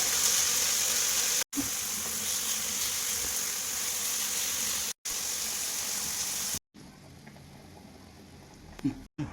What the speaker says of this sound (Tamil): குழிப்பணியார சட்டியை வச்சு அதில் எண்ணெயை ஊற்றி நம்ம பிசைஞ்ச மாவு எல்லாத்தையும் உருண்டை பிடிச்சி வச்சுக்கோங்க